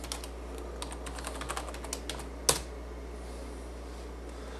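Quick, light keystrokes clatter on a computer keyboard as a master password is entered, a run of faint clicks ending in one sharper key press, then a low steady hum.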